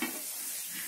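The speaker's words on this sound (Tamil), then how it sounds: "எண்ணெய் சூடாயிடுச்சு. பட்டை கிராம் தாளிச்சிடலாம்." Cinnamon and cloves crackle in hot oil as a tempering for chicken biryani, a brief soft sizzle heard up close with no talking.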